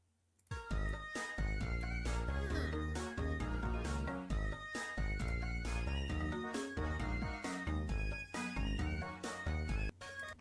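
The dancing toothless meme song plays as a phone ringtone alarm: loud, punchy electronic music with a steady beat, starting after a brief silence and running continuously at close range.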